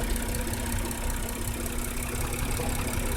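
A 1996 Nissan Maxima engine idles smoothly and steadily after an idle adjustment, a close, even hum with a low constant drone and no voices.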